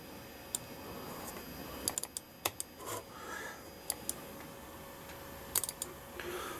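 Single-button mouse on an Apple Power Macintosh 5500 gives faint, sharp clicks, scattered singly and in quick pairs, in a quiet room with no talking.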